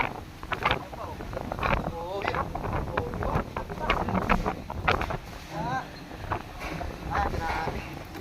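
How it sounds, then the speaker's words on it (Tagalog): Strong wind buffets the microphone with continuous gusty roaring under a bridge, while a voice speaks intermittently underneath. "Ang lakas-lakas na ng hangin."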